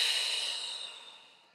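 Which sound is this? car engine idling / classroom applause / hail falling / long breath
long breath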